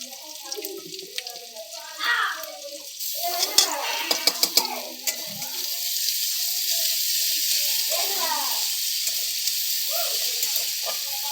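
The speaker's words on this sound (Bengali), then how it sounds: "প্রথমে দিয়ে দিলাম পেঁয়াজ, আদা রসুনের পেস্ট" Onion and ginger-garlic paste frying in a pan, with a steady hiss that builds partway through, scattered stirring scrapes and clinks, and brief speech near the start.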